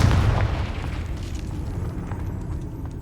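Confringo blast spell going off in Hogwarts Legacy, a dense, rumbling explosive roar, strongest at the start and staying loud and continuous throughout, with no voices.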